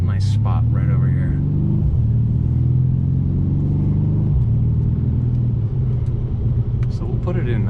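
A 2021 Mercedes-AMG C63 S Coupe makes a loud, steady low engine rumble throughout, with a slight shift in tone partway through, while a voice speaks over it.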